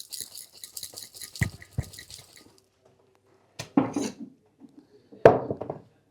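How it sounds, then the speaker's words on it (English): Cocktail shaker worked by hand for a whiskey sour with egg white, a quick rattling run of shakes followed by a few sharp, separate knocks and clacks, close and fairly loud. "first shake you will do the primarily shake with the ice, and the second one without the ice, which is called reverse shake."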